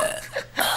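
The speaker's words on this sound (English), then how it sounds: "these are making my burps stink" A single close burp after eating corn nuts, rising briefly then breaking off into a second rougher swell, short and fairly loud.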